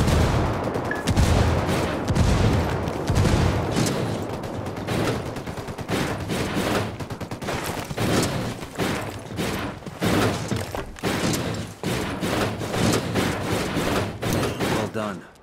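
Ghost Recon Wildlands combat: sustained bursts of rapid gunfire mixed with heavy grenade blasts, loud and near, forming a dense barrage that pulses for the whole stretch.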